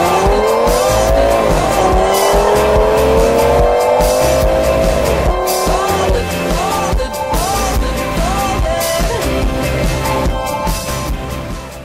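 Stock cars racing, including a 25 Plymouth and a 56 Ford, with loud engines roaring and rising in pitch, tires squealing and skidding, close and continuous throughout.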